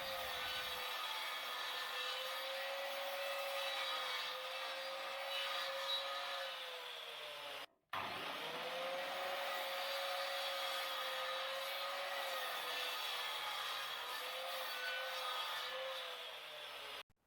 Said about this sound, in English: Then it was over to the miter saw, where I could cut the individual pieces down to size.